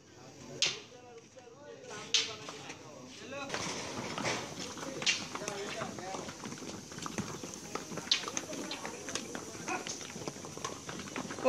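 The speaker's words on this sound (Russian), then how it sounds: "прошлись кони." Horses walk past in a busy Indian bazaar, their hoof clops sounding as repeated sharp knocks over steady crowd noise and chatter, with people talking nearby throughout.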